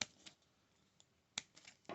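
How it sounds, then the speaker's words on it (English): Scissors snip plastic connector bits to free model kit parts from the kit card, giving a few faint, sharp clicks spaced irregularly in a quiet room. "we're just going to do that with a pair of scissors, just snipping these little connector bits"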